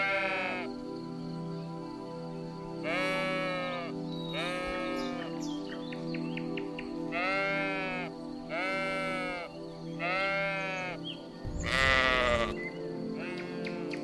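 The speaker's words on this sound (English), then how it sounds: "A sheep." A sheep bleats again and again, six or so wavering, quavering calls spaced a second or two apart, fairly close, over a steady low background hum with a brief rough noise near the end.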